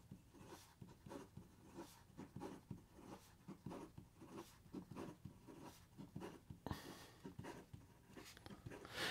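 An Asvine V169 fountain pen writes fast on paper, making a close, quiet run of rhythmic scratching strokes that repeat steadily.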